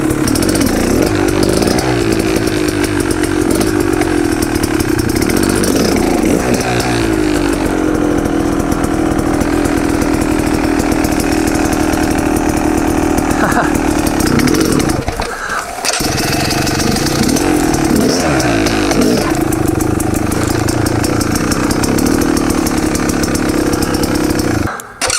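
An off-road motorcycle engine buzzes loudly and continuously while riding, rising and falling with the throttle, with a brief dip midway before it picks back up.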